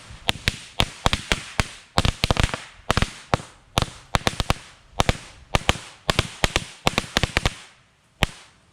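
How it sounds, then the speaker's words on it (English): Top Gun supercharged bomb firecrackers, a 50-shot roll, going off in a fire pit as a rapid irregular string of sharp loud bangs, some clustered tightly, with a final lone pop after a short gap. "Supercharged bomb firecrackers by Top Gun."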